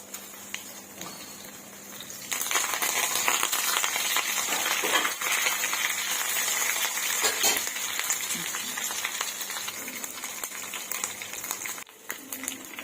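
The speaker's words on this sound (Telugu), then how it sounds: "తాలింపు పెట్టుకున్నాం అండి కొద్దిగా ఆయిల్ పోసుకొని ఇవన్నీ వేసుకున్నాము" Faint stirring, then a sudden loud sizzle as tempering spices and turmeric hit a little hot oil, crackling steadily close by before fading toward the end.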